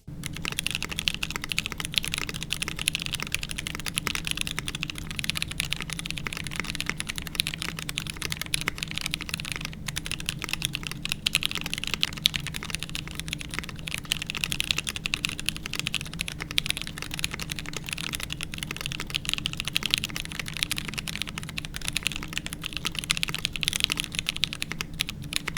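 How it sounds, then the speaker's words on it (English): Continuous typing on a mechanical keyboard with lubed Durock light tactile switches, a dense, even stream of muted tactile keystrokes close to the listener, with no voices. "Both took on more of that lubed switch sound"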